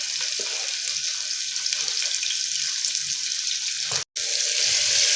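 Chopped onion sizzles as it is added to a hot pan of oil with curry leaves for a Maharashtrian chawli and potato curry, a loud, continuous frying hiss broken only by a brief pause near the end.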